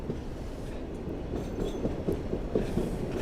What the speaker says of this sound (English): we got a train rolling by